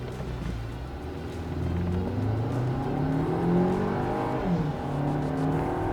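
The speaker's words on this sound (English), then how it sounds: "Launch is pretty sluggish, but what do you expect from a 7-seater SUV?" A Skoda seven-seater SUV launches in sport mode on a race track, its engine note climbing steadily through rising revs as it gathers speed, loud and close with no talking.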